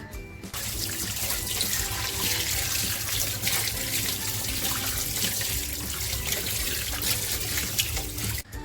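Goat intestines being washed under a running kitchen tap, a steady rush of water splashing into a sink that continues without a break, with no one talking.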